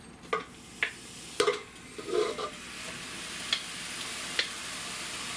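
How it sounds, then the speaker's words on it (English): Ground beef goes into a warm pan and starts to sizzle softly, with a spatula stirring and scraping at intervals and several sharp clicks and taps against the pan, all close and with no voices. "we're going to go ahead and get our ground beef in here. I got my pan warming up."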